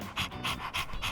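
Rhythmic dog panting from Persona 3 Reload, four quick breathy bursts in a steady pattern, close and clear with no talking.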